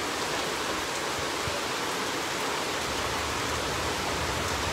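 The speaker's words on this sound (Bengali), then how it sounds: "প্রচুর পরিমাণের বৃষ্টি দের" Heavy rain pouring steadily during a flood period, a dense unbroken hiss of downpour with no pauses, loud and close.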